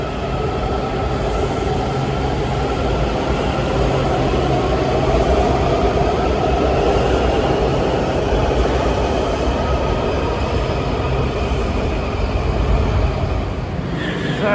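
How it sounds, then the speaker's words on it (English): A Washington Metro 7000 series Kawasaki subway train rumbles through L'Enfant Plaza station in DC, a loud, continuous roar of wheels and motors with faint squeals, filling the underground platform. "These are the 7000 series Kawasaki cars delivered several years ago."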